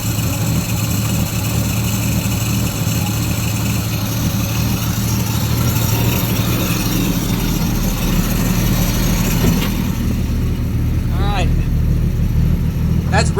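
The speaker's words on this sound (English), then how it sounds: "That's running. That's idling." A project truck's engine idles steadily and fairly close, a continuous low rumble throughout in a cold setting, with people talking over it.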